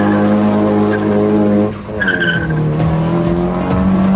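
A 2000 rally car with a 1.8 engine revs hard and loud, its tone dipping briefly before climbing again, up close at a Haapsalu rally event.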